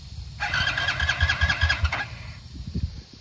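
A motorcycle with two joined silencers cranks for about a second and a half in a loud, rapid starter whir with engine coughs, then falls silent without catching.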